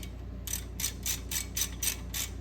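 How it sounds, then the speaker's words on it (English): A ratchet loosens a 10mm bolt on a GMT800 two-wheel-drive Chevy Silverado during wheel bearing and ball joint work, giving eight quick, evenly spaced clicking strokes, close and moderately quiet over a low hum. "let's get this bolt out."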